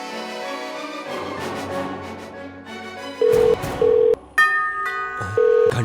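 Telephone keypad tones beep one after another, a few steady tones separated by short gaps, loud and close, with no talking.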